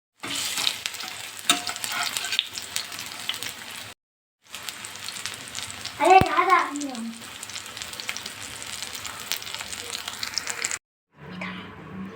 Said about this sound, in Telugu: ఇది వేడయ్యాక కట్లెట్స్ ఇందులో వేసి ఫ్రై చేసుకుందాం.